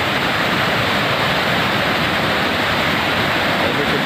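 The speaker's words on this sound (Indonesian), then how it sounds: "Kalau musim penghujan ini memang airnya lumayan deras ini." Swift, heavy river water at a rafting start point in the rainy season, a loud, dense, continuous rushing roar close by, with no talk.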